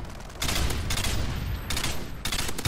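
A mounted machine gun in Modern Warfare 2 pours out bullets in long, dense bursts, loud and continuous with brief gaps between strings of rapid shots, and no talking.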